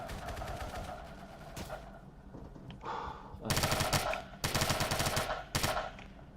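Gunfire from a video game rings out in rapid bursts with short pauses between them, loud and close, with a quieter patch before the heavy volleys.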